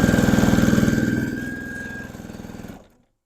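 A fast Juki sewing machine stitching fabric around a curve, its rapid, even mechanical ticking steady and close before slowing slightly and stopping abruptly.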